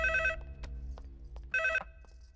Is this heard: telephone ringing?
yes